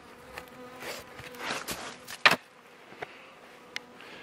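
Bees inside a wintering beehive make a soft, uneven buzz with tonal drones rising and fading, broken by a few brief sharp ticks and scrapes.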